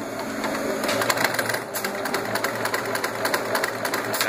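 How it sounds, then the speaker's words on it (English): Consew 7 class industrial sewing machine with an Efka motor sewing in reverse at slow speed, a steady close mechanical whir with rapid needle clatter running continuously without talk. "Okay, I'm going to step on it again and step back away."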